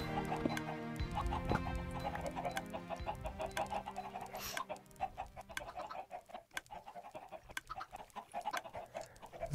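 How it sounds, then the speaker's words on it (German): Small Minecraft chickens cluck in a busy game scene, short clucks and squeaks popping out over layered background music and effects, dense at first, then sparser and more scattered toward the end. "das sind die kleinen Hühner"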